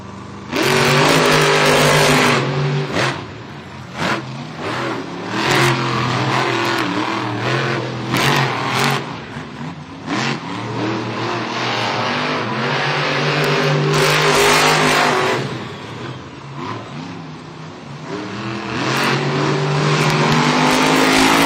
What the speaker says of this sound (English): yellow lights means our drivers need to fire their engines